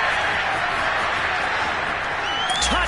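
A football stadium crowd roars and applauds after a big touchdown play, a steady wash of cheering and clapping filling the space, with a commentator's voice over it.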